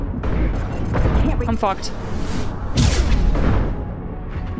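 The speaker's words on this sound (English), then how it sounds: "Watch out, flashbangs!" Flashbang grenades detonate in the video game Mass Effect 2, several sharp bursts and rumbling booms amid game noise, while a player shouts over them.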